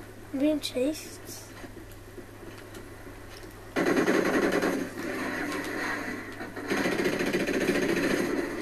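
Rapid bursts of automatic video game gunfire rattle in long sustained stretches, loud and close, with a voice briefly audible at the start.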